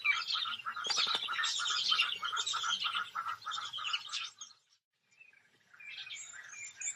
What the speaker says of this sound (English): It's a little bird feeding party.